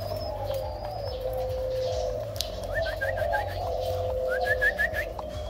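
Tame pet doves or pigeons of the 'tông 13' type, kept at a bird seller's, coo in repeated soft calls close by, with short whistled chirps and bird calls over a low steady background hum.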